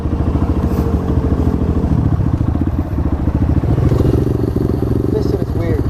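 A 2019 Apollo dirt bike runs close by, its engine a steady, loud, rapid putter with mechanical clatter that rises slightly near the end, while people talk over it.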